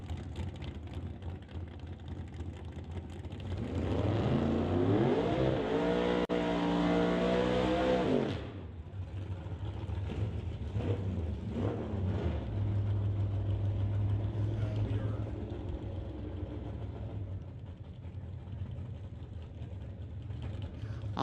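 A drag racing run at a National Tire non-electronic series event: a loud engine roar builds and holds for several seconds as cars launch, then drops away to a lower rumble and idling engines with distant track noise.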